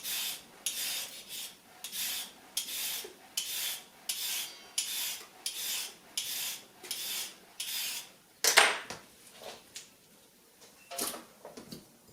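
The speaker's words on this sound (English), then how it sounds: "the next thing we're going to do is peel and chop our carrots" Carrots being peeled with a peeler in a home kitchen, heard as a steady run of about a dozen close, rasping scrapes in even rhythm, each a short bright stroke, with one sharper clatter near the end.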